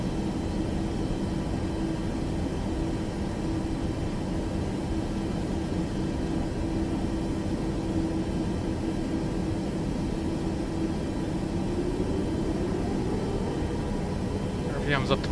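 Simulated Boeing 737 Max 8 jet engines in Microsoft Flight Simulator 2024 hold a steady, broad roar, with a low tone that climbs near the end as they spool up.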